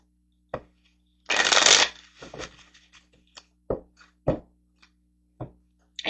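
Tarot cards are shuffled in a brief riffling burst, followed by scattered taps and soft slaps of cards being handled and set down, close and clear, with no talking.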